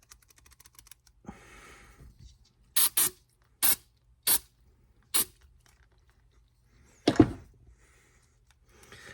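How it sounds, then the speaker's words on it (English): Electronics cleaner sprayed onto a ham radio microphone: five short, sharp hissing spray bursts in quick succession, then a longer rustling burst, with faint handling clicks in between and no talking. "This cleaner is designed to be safe, to be sprayed right on electronics."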